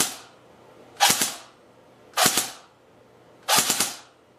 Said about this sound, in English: So we'll go do some double bursts.